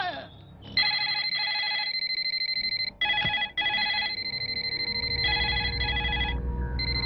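A telephone rings in repeated electronic trilling bursts with brief gaps, loud and close, while a low rumble swells underneath near the end of the scene.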